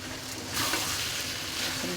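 Rice for vegetable khichuri hits a hot pan and sizzles steadily, a continuous hiss of frying that swells briefly as it settles in, with no voices present.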